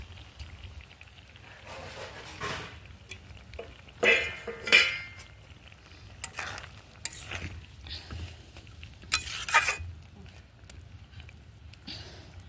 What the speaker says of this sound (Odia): ସେଥିରେ ମୁଁ ଭଜା ମାଛ ସବୁ ପକାଇ ଦେଉଛି।